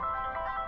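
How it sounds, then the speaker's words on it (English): A phone ringtone plays in a visual novel video game, a steady electronic melodic tone sounding continuously and clearly at moderate volume. "Suddenly, my phone starts to ring."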